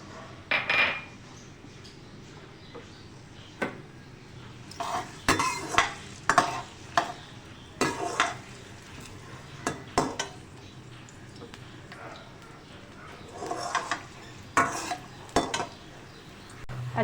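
Onions softening in hot oil for an egg and chickpea curry, stirred with a utensil that scrapes and clinks against the pan in irregular bursts over a steady low sizzle, close and moderately loud.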